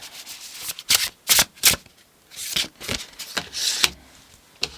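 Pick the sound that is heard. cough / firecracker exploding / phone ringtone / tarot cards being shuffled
tarot cards being shuffled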